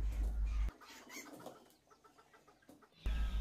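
Domestic hens clucking, a few soft scattered clucks and rustles between louder thumps of handling at the start and end, no one speaking.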